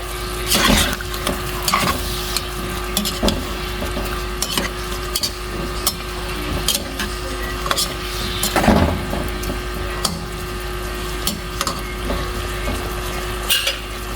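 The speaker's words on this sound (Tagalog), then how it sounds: "Now we can add a soy sauce. And stir." Pork adobo sizzles in a pan with soy sauce while a utensil stirs and scrapes, sharp clinks and scrapes recurring over steady frying crackle.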